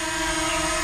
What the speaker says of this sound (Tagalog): lumipad na ang ating drone mga idol